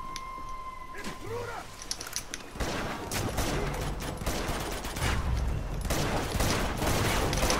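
Rapid gunfire from a weapon in Uncharted 2, a dense stream of sharp shots with clicks and mechanical clatter, building louder after a quieter opening.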